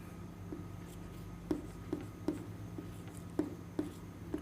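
Pen strokes scratch across paper as someone writes a sentence by hand, coming as short, crisp taps and scrapes in an uneven rhythm, close and quiet.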